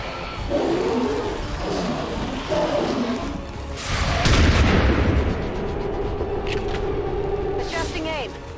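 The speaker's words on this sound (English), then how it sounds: "that explosion reverberated throughout most of the city." A loud explosion in the video game XCOM 2 booms with a broad, rumbling blast and a reverberating tail, set against a steady bed of game ambience and scattered sharp bursts.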